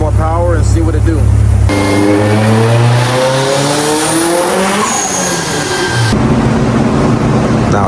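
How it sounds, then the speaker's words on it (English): A built-motor Subaru STI with a Blouch turbo and Link ECU revs hard on a dyno, a loud, close engine roar climbing steeply in pitch through a long pull, then dropping off, with speech heard in the mix. "we're gonna rev it out further, give it some more power and see what it do."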